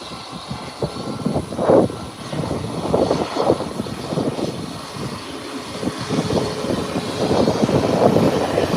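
A private jet taxis along an airport runway with a steady, rumbling engine drone that rises and falls, heard from nearby without talk.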